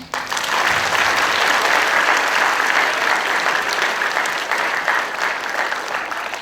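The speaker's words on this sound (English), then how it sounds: "feel free to give us a big old applause" A school audience of teachers and students applauds at a primary class assembly for Book Week, a dense, sustained clapping that fills the room throughout.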